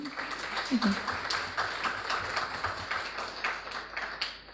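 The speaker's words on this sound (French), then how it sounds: "Et je pense que ça mérite quelques applaudissements." Scattered audience applause at a banking keynote, a moderate patter of claps with distinct taps standing out, fairly close and steady, with a brief voice murmur early on.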